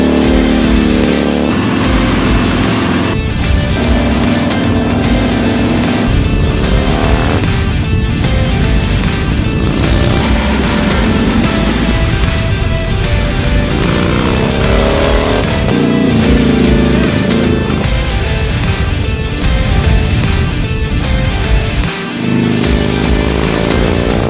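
A 1993 Harley-Davidson FXRS Convertible motorcycle cruises along back roads, its engine loud and steady with repeated throttle surges and gear changes, heard up close throughout with no voices.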